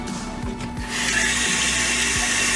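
Tap water runs steadily into a sink for rinsing, a broadband wash of noise that swells louder after the first second and carries on alone.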